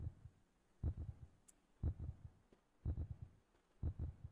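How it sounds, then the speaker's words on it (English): Video game heartbeat: deep, soft lub-dub thumps repeating at a steady slow pulse, about four double beats, quiet and alone against a faint hum. "Apparently, a heartbeat's going on."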